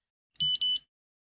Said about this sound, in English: The probe base light flashes red and you hear 2 beeps.